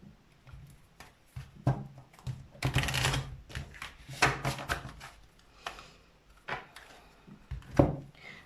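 Tarot cards are shuffled and drawn by hand, giving an irregular run of crisp taps, slaps and papery riffles, some louder bursts among quieter clicks, with no talking.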